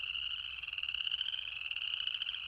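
Tiny chorus frogs call in a wetland, a dense steady chorus of rapid clicking trills that runs unbroken throughout, loud and close with no voices.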